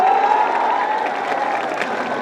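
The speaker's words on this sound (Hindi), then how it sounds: "इसके लिए जोरदार ताली बजाओ सब लोग" A large crowd at a public political gathering applauds, with loud, dense clapping sustained evenly through the short stretch.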